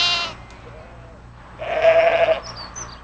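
A ewe bleats once, loud and close, calling out as she searches for her missing lamb in a field, the single wavering cry standing alone after a brief faint sound at the start.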